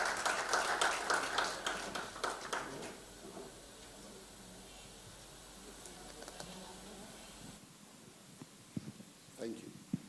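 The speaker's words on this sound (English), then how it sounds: "Can we please give her a round of applause?" Applause from a film summit audience in Nigeria, dense clapping filling the first few seconds and then thinning into scattered claps and room noise.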